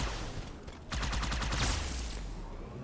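Rapid sniper and weapon fire from Jackal enemies in the video game Halo 2, a dense burst of repeated shots after a brief lull, loud and close over a steady low combat rumble.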